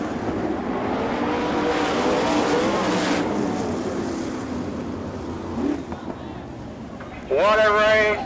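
Sprint race cars at an All Star Circuit of Champions race at Bloomington Speedway, Indiana, roaring past in a loud engine blur that swells and fades, with a sharp high engine whine rising near the end and an announcer talking over it.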